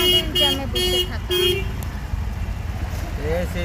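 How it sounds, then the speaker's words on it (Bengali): Car horns honk in repeated short bursts amid a rainy traffic jam, over a steady low road rumble, with a voice talking briefly near the end. "আমাদের জ্যামে বসে থাকা"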